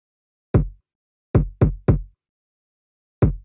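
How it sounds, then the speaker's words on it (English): Simple kick drum sample from a hip-hop beat remake, five isolated deep thumps with short decays in an irregular pattern, two close together then one more, alone against silence. "Let me just get to the kick here. A simple kick drum."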